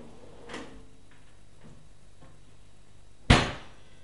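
Kitchen drawers in a new-build showhome give a soft slide and knock, then one shuts with a sharp, close thud near the end.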